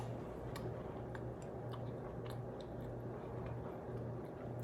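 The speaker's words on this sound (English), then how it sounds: "That's the sound of a stale cookie." A stale cookie is chewed close up, giving a run of faint, dry crunches at an irregular rhythm over a steady low background hum, with no talking.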